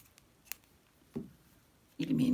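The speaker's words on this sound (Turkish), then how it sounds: "İpi kesiyorum." Scissors snip through crochet yarn with a couple of short, close clicks, followed by a louder burst of noise at the end.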